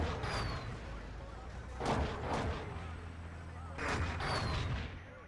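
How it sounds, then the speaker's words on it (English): Artillery shells landing in Battlefield 2 during a competitive Conquest match, two heavy booming impacts about two seconds apart over a low rumbling battlefield background. "Counterplay as the artillery will land."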